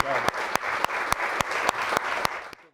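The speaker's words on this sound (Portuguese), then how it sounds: "Eu acho que o mínimo é uma salva de palmas." Applause from a seminar audience, steady dense clapping with a few sharp louder claps throughout, fading out at the end.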